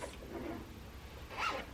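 A brief zipper pull near the end, a quick rasping zip after a soft shuffling sound, heard close and alone.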